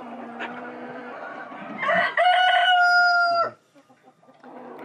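A rooster of a new chicken breed crows loudly and close in a long, rising cock-a-doodle-doo, with clucking and soft farmyard sounds before and after.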